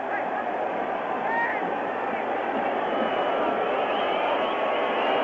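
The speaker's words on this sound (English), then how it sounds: "The crowd urging the teams on." Stadium crowd roaring steadily at a 1986 football match between Italy and Argentina, a dense, continuous wash of massed voices with no break across the clip.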